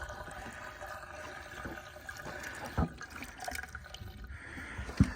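Water pouring and gurgling through a U-bend drain in a pop-top camper van, a soft continuous trickle with a couple of sharper knocks, fairly quiet and close.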